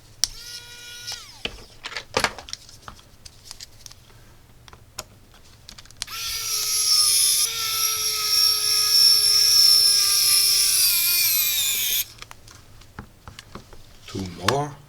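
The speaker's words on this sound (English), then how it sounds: "I'm gonna use my electric screwdriver, which is rechargeable" A rechargeable electric screwdriver drives screws, its motor whining up as it winds down, with a short run early on and then a longer loud one of about six seconds, among light clicks and handling noises.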